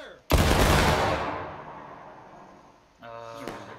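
Musket volley in War of Rights, one loud massed discharge with a long rolling echo that slowly dies away, followed by a voice speaking near the end.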